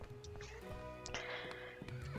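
Horse in the ranch video game The Ranch of Rivershine neighing, a brief whinny over soft game background music, fairly quiet and alone without talk.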